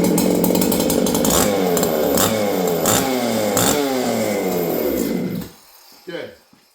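A ported chainsaw engine revs hard and steadily at high speed for about five seconds, loud and close, then drops off abruptly, leaving a brief quieter burst before fading out.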